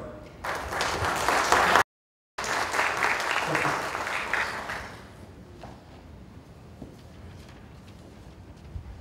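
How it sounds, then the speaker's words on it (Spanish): Strong applause from a congress audience welcoming a speaker, dense clapping for about four seconds, cut by a brief gap, then fading to room quiet and faint speech. "Recibamos al doctor Álvaro Javier Hidrobo con un fuerte aplauso."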